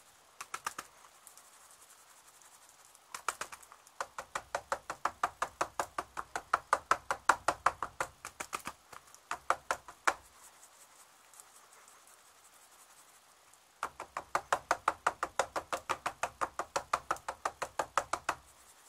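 Rapid, steady tapping against a container holding freshly poured plaster for a mold that will cast a sliding fishing sinker, coming in long runs of sharp ticks broken by short pauses, with no talking.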